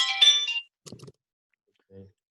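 A phone ringtone for an incoming call sounds during an online lecture, a bright melodic chime of about half a second near the start, followed by brief faint speech and a short low blip.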